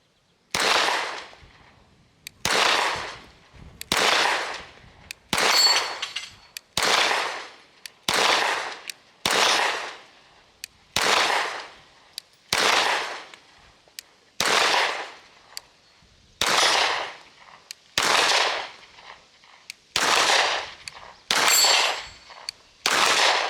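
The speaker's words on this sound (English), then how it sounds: "So let's put some rounds downrange, and we can just kind of see how the P320 XG Legion kind of handles" Sharp pistol shots from a SIG P320 AXG Legion fired at an outdoor range, about fifteen loud reports in a steady, evenly spaced rhythm, each followed by a brief decaying echo.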